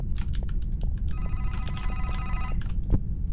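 A telephone rings in the horror game The Vermander Curse, a sustained metallic bell trill over a low rumbling ambience, mixed with scattered clicks and keyboard taps.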